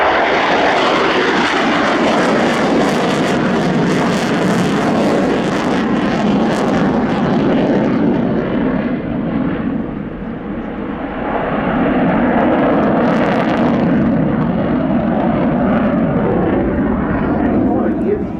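Sukhoi Su-27P1M Flanker fighter jet in a flying display, a loud continuous roaring jet thunder with a brief dip midway before surging again, with a voice speaking over it.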